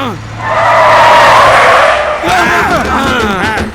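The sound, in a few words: vehicle braking to a stop, skidding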